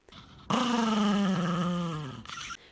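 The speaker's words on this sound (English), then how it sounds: "Growling is a warning," A pet dog lets out a sustained, close growl of about two seconds that rises sharply and slowly fades, with no voices around it.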